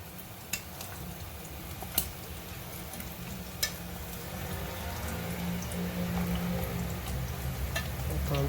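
Plantain frying in oil, a steady low bubbling crackle with a few sharp clicks of a utensil stirring now and then, fairly quiet and close, with no talking.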